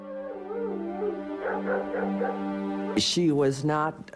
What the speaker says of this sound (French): Elle s'entoure de dizaines de chiens.